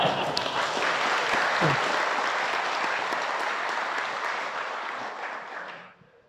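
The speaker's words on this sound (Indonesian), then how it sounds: "Kenapa jadi tepuk tangan begitu?" An audience at a religious lecture breaks into a dense wash of clapping that holds steady for several seconds, then fades out abruptly near the end. A voice is briefly heard underneath.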